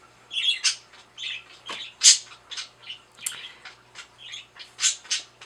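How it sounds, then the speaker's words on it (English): Pet birds squawk and chatter indoors in a lively run of sharp, bright calls and chirps, close and fairly loud, with no talk over them. "The birds are being very chatty."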